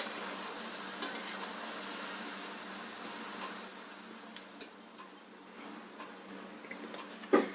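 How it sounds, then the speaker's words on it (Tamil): Pottu kadalai murukku deep-frying in hot oil, a soft steady sizzle with faint bubbling and occasional small pops and clicks, heard alone and fairly quiet. "இப்போ முறுக்கு நல்லா வெந்துருச்சு, பபிள்ஸ் எல்லாம் அடங்கிருச்சு"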